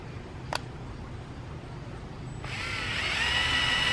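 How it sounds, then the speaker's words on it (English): A brief click, then a power drill spins up and keeps whirring steadily at close range, boring a pilot hole in wood. No one speaks. "I'm gonna drill the pilot hole into the piece of wood."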